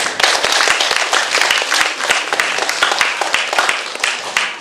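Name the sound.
audience applause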